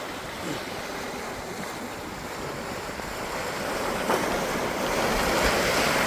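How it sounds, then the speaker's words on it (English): Ocean waves break and wash onto the California shore in a continuous, broad roar with gusty wind, close and fairly loud, swelling toward the end with no talk. "Look at this beautiful ocean."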